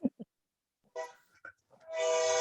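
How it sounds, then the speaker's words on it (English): A passing train's horn blares loudly near the end, a sustained harmonic blast that follows a few short, scattered sounds and brief quiet gaps. "hang on, train's coming"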